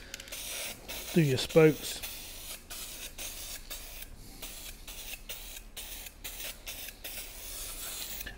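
A spray can puts a light dust coat of silver paint onto car wheel spokes, making a soft, steady hiss close by. A short burst of speech comes near the start and the hiss continues alone afterward.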